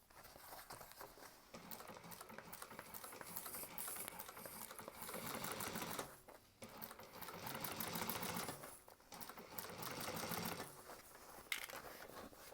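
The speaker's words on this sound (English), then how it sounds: "And then just go slowly top stitching down." Sewing machine top stitching down a wide, flat-laid fabric bag seam, running in steady bursts with short pauses, close and fairly quiet, no talking.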